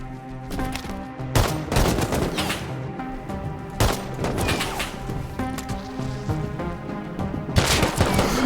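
Gunfire from an AK rifle in the survival game Rust, with several bursts of shots cracking out over a steady background of game music and ambient noise, some volleys louder and closer than others.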